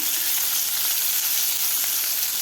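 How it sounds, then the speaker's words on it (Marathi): Bean pods frying in oil in a pan, a steady close bright sizzle that holds evenly throughout with no pauses or talk. "आता एक दोन मिनटं आपल्याला ही शेंगा झाकण ठेवून परतून घ्यायचे आहे"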